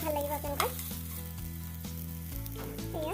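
Ridge gourd peel fries in a pan for chutney, giving a soft, continuous sizzle with occasional stirring scrapes, close and fairly quiet.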